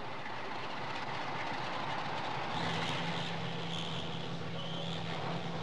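A freight train carrying 1,000 tons of coal to a coal-fired power station in northwest England rumbles past with a steady, moderately loud roar and faint rail clatter, no voices.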